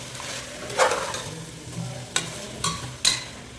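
A spoon stirs mutton into a pre-made salna gravy in a pan for a mutton drumstick potato curry, with a soft sizzle underneath and several distinct scraping strokes spaced out, close and clear.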